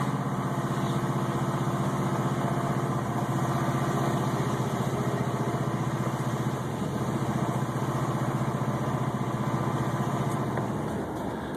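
A Ford Crown Victoria engine running on a water fuel system idles roughly, a loud, continuous, throbbing drone with slight unsteadiness that holds for most of the stretch before easing near the end.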